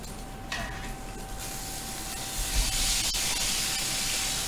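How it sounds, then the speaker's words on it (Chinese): A pork chop and a beef steak sear in a hot pan, producing a soft continuous sizzling hiss that grows slightly louder toward the end, with no voices. "我哋聽啲聲就已經想食啦！哇，煎得好靚喎！"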